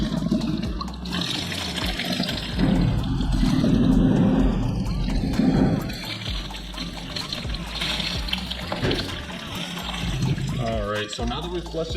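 Water gushes and splashes steadily out of a Daytona 675 motorcycle's cooling system as it is flushed, a continuous rushing drain that swells and eases, with a person speaking over it.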